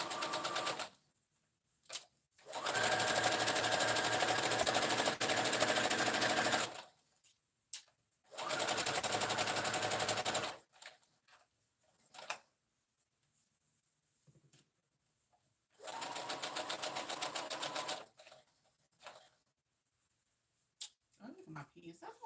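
A sewing machine stitches fabric for a scrub cap in three bursts of rapid, close mechanical whirring, separated by quiet pauses filled with small handling clicks and the faint sounds of fabric being turned.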